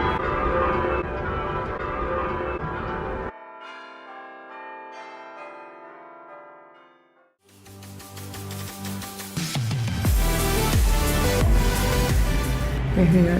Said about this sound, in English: Bells are nice. Yeah, the bells are beautiful.